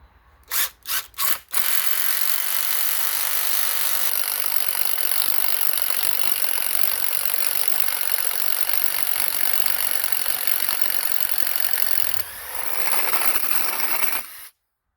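A power drill with a 15/16 bit whines continuously as it bores a hole for a carpenter bee trap, preceded by a few short bursts before the long steady run, then it stops.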